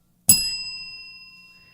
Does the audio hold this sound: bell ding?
yes